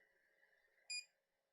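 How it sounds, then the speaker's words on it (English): Preheat beep from a Creality CR-6 SE 3D printer: one short, bright electronic tone lasting about a quarter second, clear and close above a quiet steady hum. "Don't like the beep."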